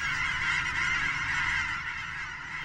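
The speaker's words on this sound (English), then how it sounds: "It is a time and place for goose song" Dense, overlapping honking from a big flock of Canada geese fills the air steadily over pastures in Oregon's Willamette Valley, a constant noisy chorus that fades slightly toward the end.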